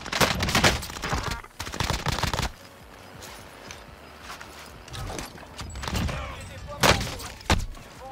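Gunfire in an online multiplayer shooter game, rapid bursts of shots at the start and again near the end with a quieter stretch between, close and fairly loud.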